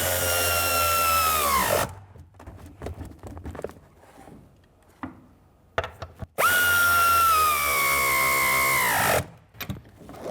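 A power tool on a 1999–2006 Chevrolet Silverado 1500 door runs down mounting nuts in two loud whirring bursts of about two and three seconds, winding down at the end of each. Quieter clicks and handling noises fill the gap between them.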